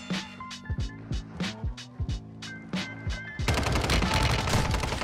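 Shotgun blasts in Warzone Mobile, about eight loud, evenly spaced booming shots with sharp attacks, followed by a dense burst of rapid gunfire that fills the last second and a half.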